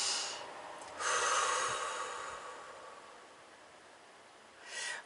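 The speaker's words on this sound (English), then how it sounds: "Just breathe in." A slow, deep inhalation during a calm spirit-guidance meditation with a singing bowl, a long soft airy breath swelling near the mic, then fading, with a shorter breath at the end; no talking.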